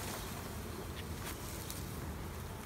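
A honeybee swarm buzzes as a dense, steady hum, close and continuous for the whole moment, with no one speaking.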